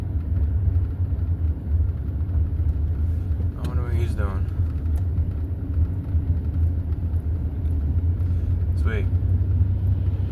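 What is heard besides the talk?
semi truck driving in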